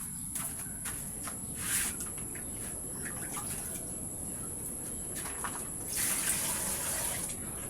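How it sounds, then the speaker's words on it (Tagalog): Tap water runs steadily while a cooking pot is washed, with broadband splashing and a couple of louder gushes as the flow hits the pot; birds chirp faintly in the background and no one speaks. "Hugasan lang natin yung kaldero guys."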